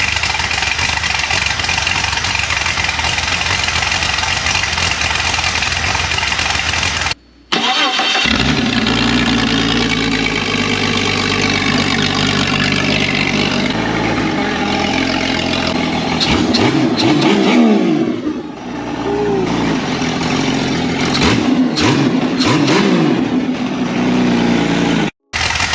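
A diesel truck engine with a fault, rolling coal, runs loud and close, settling into a rough idle after a brief cutout, then revving up and down in several throttle blips, with a short drop near the end.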